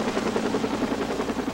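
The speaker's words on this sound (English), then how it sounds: "the medical chopper arrived to transport her to the hospital" A medical air-ambulance helicopter arriving at a water rescue scene, its loud steady rotor thrum and turbine whine running continuously and close throughout, with no voices over it.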